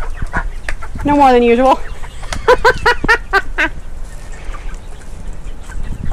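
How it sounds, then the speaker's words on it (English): Guinea fowl and chickens in a backyard coop give a burst of squawking calls and then several sharp clucks, close and loud, while a person speaks briefly nearby. "This is our guinea fowl."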